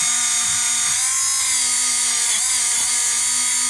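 A RYOBI rotary tool runs continuously at high speed while cleaning dirt off metal, a loud close whine that dips slightly in pitch as the bit bears on the workpiece, with no talking.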